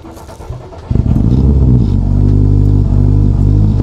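Citroën C3 R5 rally car engine cranking and catching with a sharp bark, then settling into a loud, close, steady idle with a slight rev.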